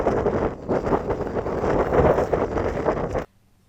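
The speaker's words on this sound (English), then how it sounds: "the wind has to kick up to 25 knots." Strong gusting wind of around 25 knots roars across the microphone aboard a sailboat close to its anchorage, loud and blustery, then cutting off abruptly near the end.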